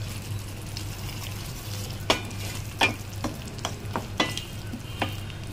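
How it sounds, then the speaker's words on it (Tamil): Tomatoes with salt sauté in a pan for tomato kulambu, a steady low sizzle under scattered sharp scrapes and taps of stirring, close and moderately quiet. "இது நல்லா தக்காளியெல்லாம் மசிகிற வரைக்கும், ஓரளவுக்கு மசிகிற வரைக்கும் நல்லா வந்து வதங்கட்டும்."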